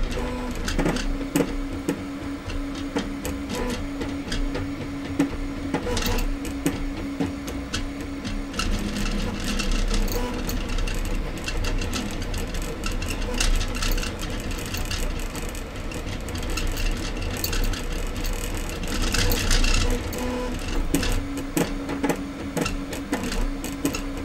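A Zonestar P802QR2 3D printer runs continuously, its stepper motors whirring and buzzing in shifting tones with quick moves and occasional clicks, close and steady throughout.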